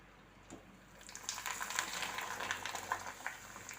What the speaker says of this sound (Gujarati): હવે આપણું તેલ આવી ગયું છે ને આપણે આમાં ભૂંગળા નાખી દીધું